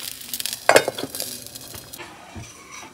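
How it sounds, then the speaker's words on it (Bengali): Rice-flour pitha batter fries in oil in a pan, with a soft sizzle under a few sharp metallic clinks and scrapes from a utensil near the start, fading to a quieter hiss. "এটা দিয়েই সাজের পিঠে ভাজা করছি, আবার এটা দিয়েই তেলের পিঠে ভাজা করব।"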